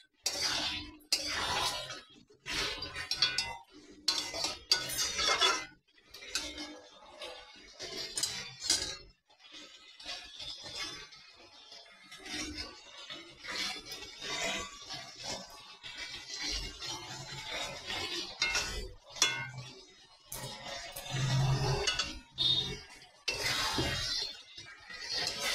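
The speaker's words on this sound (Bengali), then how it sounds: "কচুটা দিয়ে ভালো করে কষে নিতে হবে।" Taro and chicken are stir-fried in a pan, with a busy run of metallic spatula clanks and scrapes against the pan over a faint sizzle, close and loud, pausing briefly now and then.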